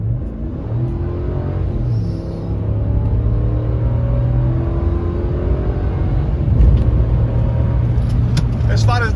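A 2020 Ram 1500 Laramie pickup's HEMI V8 engine revs up and pulls, a deep steady rumble rising in pitch as it accelerates, loud and close, with some interior rattle near the end.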